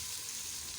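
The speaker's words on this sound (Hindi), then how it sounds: "फिर उसके बाद हम ये सब्जी डालेंगे। इसको भूनते हैं" Aubergine and potato sabzi frying in tomato masala paste in a pan, giving a steady, close hiss of sizzling with no talk.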